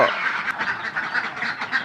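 Ducks on a duck egg farm quack loudly and continuously, many overlapping calls close by with a busy, rhythmic chatter.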